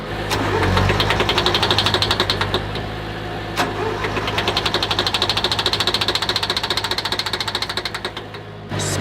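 An old, smoky truck engine idles roughly in a garage-sale setting, its rapid uneven pulsing and knocking running loud and close for the whole stretch, with a brief stumble partway through.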